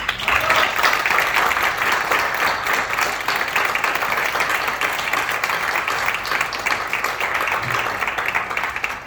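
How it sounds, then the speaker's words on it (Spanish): A crowd at a book presentation in a museum hall bursts into strong applause, many hands clapping in a loud, even roar that carries on for around nine seconds. "Pido un fuerte aplauso para todos, por favor."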